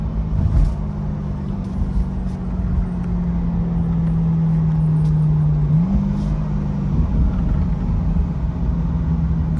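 A 2023 Corvette 2LT Z51 engine drones steadily under load, its tone climbing and then stepping through a quick upshift, with continuous road rumble heard from inside the car.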